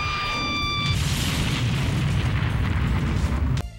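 A helicopter crashes and explodes in a low-budget alien action movie, a loud rumbling blast with a deep sustained roar that fills the clip before cutting off abruptly.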